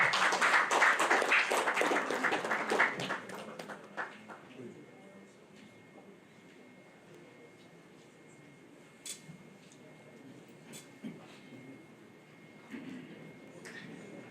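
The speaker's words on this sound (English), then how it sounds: "please, a round of applause to Dr. Stephen Akintayo" Audience applause at a real estate book launch and dinner, a burst of clapping that starts loud and quickly thins into scattered claps, then gives way to a quiet room with occasional taps and knocks.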